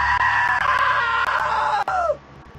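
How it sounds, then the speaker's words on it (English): A loud, sustained scream from a character in the video game What Remains of Edith Finch, holding steady for about two seconds before trailing off and cutting to near silence, with no talk over it. "Now that was a great scream."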